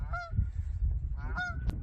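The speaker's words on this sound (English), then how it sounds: "And oh, a few geese here." Two distinct goose honks sound a moment apart over faint low background rumble, moderately distant, in a wilderness cove on the Avalon Wilderness Reserve.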